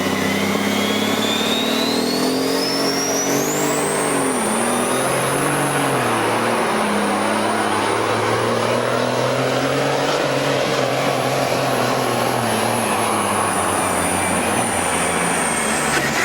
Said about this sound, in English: I really loved hearing those RPMs as they just whizzed up off the line.